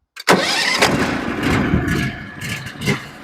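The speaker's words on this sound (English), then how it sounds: "Got to warm up the mill a little." A Norwood HD36v2 sawmill engine cranks and catches abruptly, then settles into a loud, close, clattery run with slight revving swells as it warms up.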